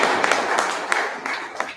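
A handful of people clap at a school debate competition, scattered uneven claps close by that thin out toward the end, with no cheering.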